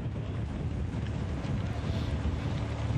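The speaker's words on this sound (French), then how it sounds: "Là, ils sont confrontés effectivement à quelques bourrasques qui accompagnent ce début d'orage." Gusty wind roars at the onset of a thunderstorm during stage 1 of the 2022 Tour of Croatia road cycling race, a loud, steady, buffeting rush that hits the microphone with no voices.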